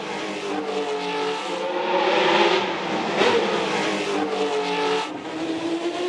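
Race cars at the Monaco Grand Prix scream past at high speed, engines loud and close with sweeping, rising and falling pitch as one car follows another.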